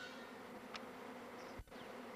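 A swarm of honey bees fills a garden with a faint, steady buzzing drone, heard from a distance and without talk.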